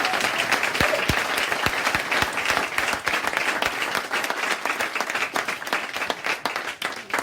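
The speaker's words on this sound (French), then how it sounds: "Est-ce que quelqu'un peut pas applaudir pour mon père?" A church congregation claps in dense, sustained applause with a few sharper individual claps standing out, loud and continuous throughout with no talk over it.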